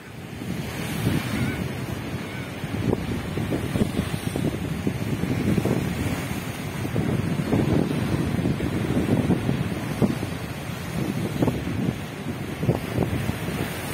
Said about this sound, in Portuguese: deixar que o mar fala por ele mesmo